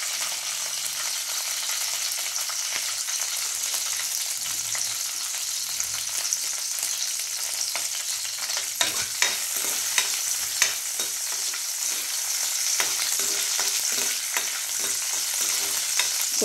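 Rice frying in a pan with cashews and raisins for sweet rice, a loud, dense, steady sizzle broken by irregular scraping strokes of a stirring spoon, close up and with no voices.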